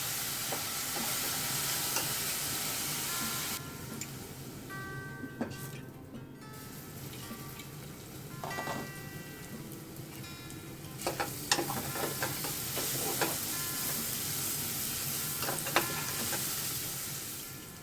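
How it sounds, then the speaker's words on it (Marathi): Onions sizzle steadily in a hot pan while being softened for stuffed brinjal, a continuous frying hiss broken by occasional clinks and scrapes of a spoon stirring. "आपण आता छान कांदा कोमवून घेऊया"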